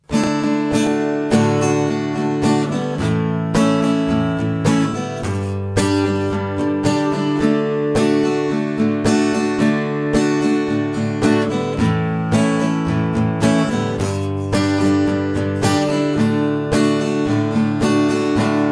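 Acoustic guitar strumming in an even rhythm, with chords rising and falling in loudness, played close and alone without voices.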